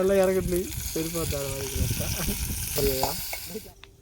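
Chicken curry frying in a pan over an open fire outdoors as tomatoes go in, giving a steady sizzle that runs throughout under nearly continuous talking.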